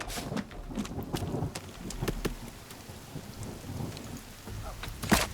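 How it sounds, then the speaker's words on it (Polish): Thunderstorm in the video game The Forest: steady rain hiss with rumbling thunder and sharp cracking strikes, the loudest crack near the end, no talk. "Burza."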